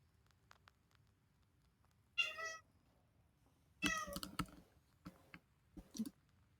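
A domestic cat sitting at a window meows in short separate calls, one clear meow followed by a longer run and a few softer ones, close by in an otherwise quiet room.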